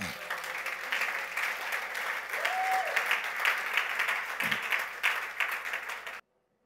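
A church congregation claps and cheers in praise with sustained, lively applause and raised voices. The applause stops abruptly near the end.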